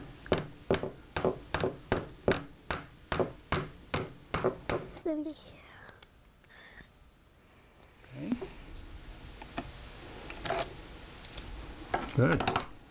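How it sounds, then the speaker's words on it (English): A hammer drives a part into place on a table saw with about a dozen sharp, evenly spaced blows. Scraping and shuffling follow, then a few scattered knocks. "Now, we're going to take the hammer and hammer it the rest of the way in."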